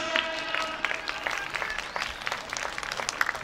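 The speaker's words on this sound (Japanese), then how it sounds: "さあスタンドの皆さんもどうぞ大記録に大きなご声援、" Spectators in the stands of a women's 10000m race at a distance trial meet in Kyoto applaud steadily, a moderate wash of clapping with scattered louder claps and faint crowd noise throughout.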